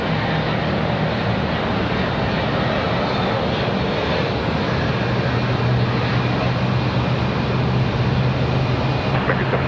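A heavy American Airlines jet at Charlotte Douglas International Airport roars down the runway on takeoff. The engine noise is loud, dense and broadband, with a steady low hum that holds throughout and no speech heard.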